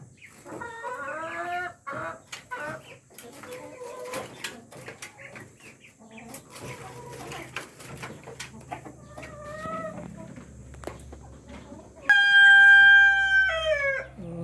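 Rhode Island breeder hens on a farm cluck and cackle in repeated bursts, with a rooster crowing loudly near the end over faint background noise and occasional rustling.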